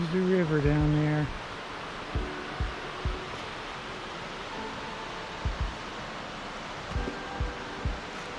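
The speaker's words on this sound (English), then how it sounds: "There's the river down there." A river flows far below wooded cliffs in Old Stone Fort State Archaeological Area, Tennessee, a steady, distant rushing hiss throughout. A voice speaks briefly at the start and scattered footsteps crunch nearby.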